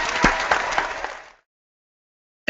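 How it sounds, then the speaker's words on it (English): A short burst of applause from a small group, a few distinct claps under a brief clatter, cut off abruptly into silence. "Giving you a big round of applause over here."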